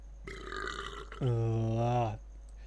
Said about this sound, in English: Did they just get the voice actor to drink a bunch of Coke or something and burp as loud as he could into the fucking microphone?